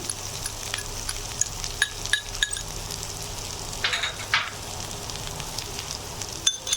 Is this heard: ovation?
no